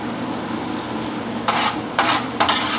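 Food toasts in a hot pan with a low, steady sizzle, then three brief scraping stirs cut in close and loud near the end.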